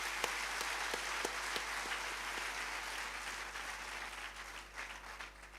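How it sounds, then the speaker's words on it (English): An audience at a conference breaks into sustained applause, many hands clapping in a dense, steady patter that carries on for several seconds, moderately distant and without speech. "Let's give the government a round of applause."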